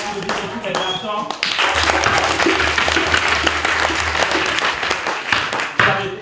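Lively group applause for boys after a dance swells in after a brief spoken lead-in, holding a full, busy clapping texture with voices beneath it before tapering near the end.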